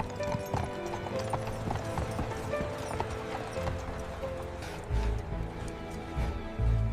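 Horses' hooves clip-clopping on a city street in 1850s Chicago, a steady close rhythm of hoofbeats continuing throughout with faint background clatter and a couple of heavier thuds near the end.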